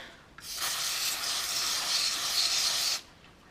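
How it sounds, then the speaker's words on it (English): A steady hiss of cleaner spray from an aerosol can aimed down into the cartridge slot of a Game Boy DMG, close and continuous for a few seconds, then abruptly stopping. "I'm just going to spray straight down into that slot."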